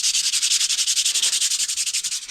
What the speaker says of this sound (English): It welds better when you sand it.